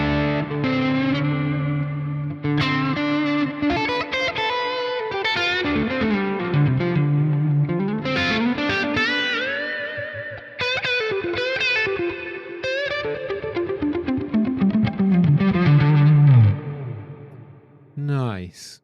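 Electric guitar run through a compressor on a Cortex amp modeler, playing a continuous melodic, sustained line with effects, loud and up close, with a brief drop near the end.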